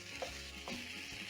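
Onions and minced meat fry in a pan, a soft continuous sizzle with a few brief scraping stirs, quiet and close, with no voices.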